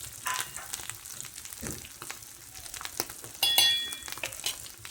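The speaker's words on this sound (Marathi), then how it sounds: "ह्याला छान परतू द्यायचा" Onion and potato sauté in a pan for fasting sabudana khichdi, a soft steady sizzle with scraping stirs and a brief metallic clink near the end, fairly quiet and without voices.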